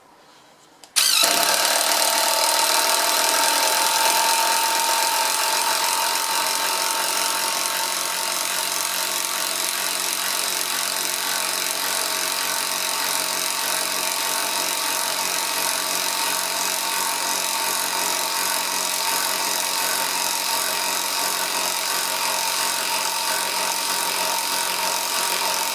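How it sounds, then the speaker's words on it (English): An impact wrench drives a 175mm screw into wood with no pilot hole, a loud continuous buzzing hammer that starts abruptly and runs steadily for about 25 seconds, close up and alone. "175mm bit screw with the impact wrench"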